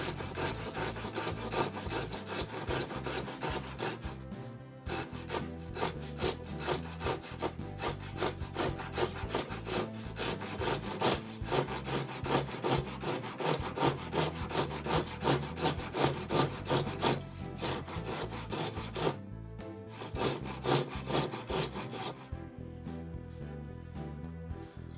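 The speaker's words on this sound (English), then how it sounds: "then just use the rip teeth to rip down the side of the board." Rip teeth of a Japanese pull saw cut lengthwise down a wooden board in a steady rhythm of close, rasping strokes that continues for most of the clip, pausing briefly twice.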